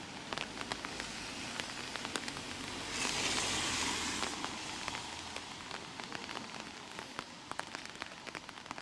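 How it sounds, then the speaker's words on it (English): A light rain shower falls outdoors in Auvers-sur-Oise, France, a soft, steady hiss of drops with scattered taps that thickens briefly in the middle before easing back. "there's just a bit of a rain shower coming down"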